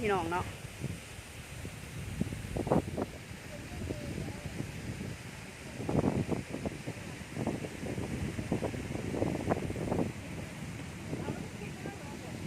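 Strong wind buffeting the microphone outdoors near a freshwater lake, low rumbling gusts that swell and fade throughout, with a person talking over the blustery noise.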